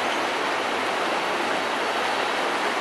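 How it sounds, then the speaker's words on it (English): The Patapsco River in Ellicott City, Maryland rushes past as a steady, broad wash of moving water, loud and even with no other sounds. "This is the Patapsco River in Ellicott City, Maryland."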